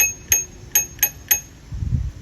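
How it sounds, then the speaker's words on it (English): A small bell on an electric e-bike is struck four times in quick, uneven pings, each a short bright ding, followed by low handling noise. "They all have some sort of bell"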